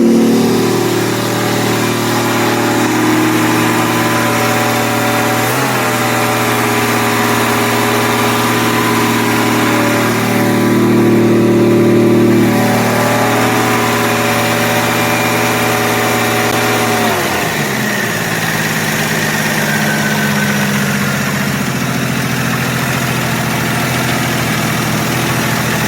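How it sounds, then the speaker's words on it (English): A car engine idles steadily and loud right after a new carburetor install, its hum dipping and shifting pitch as the idle is adjusted, with no one talking. "Little position, what do you call it, idle?"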